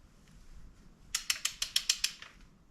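A torque wrench tightening a spark plug on a Porsche Cayenne ratchets through a quick run of about eight sharp clicks, faint and close in a quiet space, with no talking.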